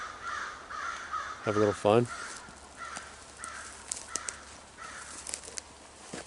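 Crows caw repeatedly beside a salmon river in a forest, with a loud close burst of calls and fainter calls scattered around it, over steady running water and brief speech.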